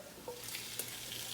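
Lamb sizzling as it begins braising in a pot with onions and garlic, a steady soft frying hiss with a few faint crackles throughout.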